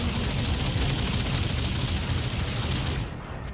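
Sustained gunfire and booming blasts in the space game Starbase during a tripod PvP fight, a loud, dense barrage that roars continuously before easing slightly near the end.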